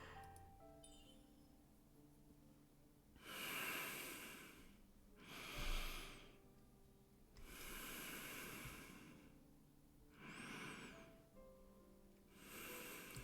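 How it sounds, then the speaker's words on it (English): A sleeping character breathes slowly in a video game, with four or five long, airy breaths spaced a few seconds apart, close and soft over a quiet background. "Do I have to listen to him breathe for like a minute?"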